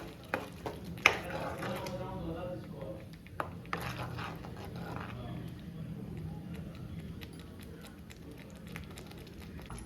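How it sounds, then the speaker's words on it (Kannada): Palak curry paste frying and being stirred in a pan over a low flame, with soft continuous sizzle and intermittent scraping clinks of a spoon against the pan. "ಇದನ್ನು ಸಣ್ಣ ಉರಿ ಇಟ್ಕೊಂಡು ಸ್ವಲ್ಪ ಹಸಿ ವಾಸನೆ ಹೋಗೋ ತನಕ ಚೆನ್ನಾಗಿ ಹುರ್ಕೋಬೇಕಾಗುತ್ತೆ"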